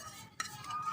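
Beef pulao rice being stirred and mixed in a cooking pot, with a brief scraping, clinking stir of the spoon against the pot over a soft background rush.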